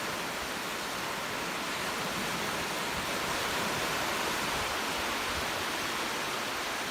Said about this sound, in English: Technical term for a bit of surf.